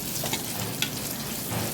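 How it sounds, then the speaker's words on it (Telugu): Tempering spices crackling and frying in hot oil in a kadai for coconut chutney, a close, continuous dense sizzle throughout with small pops. "పోపు పెట్టుకుంటున్నాను"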